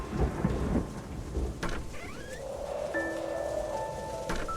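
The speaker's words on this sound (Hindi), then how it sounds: "लगता है तूफान आने वाला है।" A thunderstorm rumbles with steady rain falling on surfaces, a low roll of thunder and patter filling the background, with a few thin tonal chirps late on.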